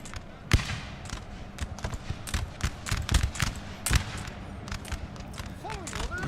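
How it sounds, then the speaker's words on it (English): Modded musket volleys in the strategy game Napoleon Total War, with a dense stream of crackling shots and sharp cracks at varying distances, overlapping irregularly throughout, with a voice speaking over the gunfire. "Just admire the gunfire at the moment."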